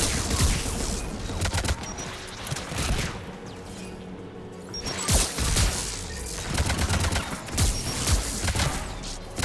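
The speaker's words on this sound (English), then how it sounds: "AA guns ahead of us." Anti-aircraft guns fire in rapid, continuous volleys during a Geth and Quarian war battle in Mass Effect 3, loud and dense with rhythmic bursts and mechanical clatter, no talking.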